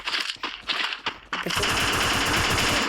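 Rapid gunfire rattles through a video game, a few separate sharp shots at first, then a dense, loud, continuous automatic burst that holds to the end with no talk over it.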